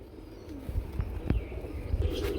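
Pigeons at a bustling pigeon market murmur low, soft coos, with scattered knocks and shuffles mixed into steady background noise.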